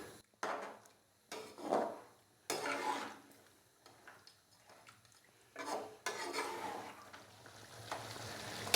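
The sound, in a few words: tomatoes frying in beef karahi masala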